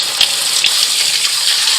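Tap water gushes steadily over heirloom Straight Eight cucumber seeds being rinsed of their slime, a close, continuous hissing splash with small bursts as the flow shifts.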